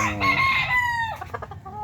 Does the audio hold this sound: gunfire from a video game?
no